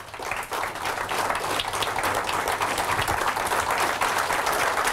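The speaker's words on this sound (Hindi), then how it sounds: "तालियां तो ढंग से बजा लो।" Audience applause at a motivational training session in Mumbai, a thick, continuous wash of many hands clapping that swells early and stays loud and even throughout.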